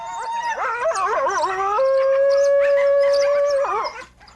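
Coyotes howling in a long, wavering chorus at close range, several voices rising and sliding before one holds a steady drawn-out note, then the group trails off with yips near the end.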